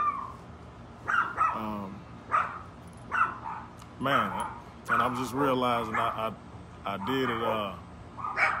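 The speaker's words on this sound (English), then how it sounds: "I don't know what's going on with these dogs out here" Several dogs bark and yip outdoors, repeated barks coming in bursts under someone speaking throughout.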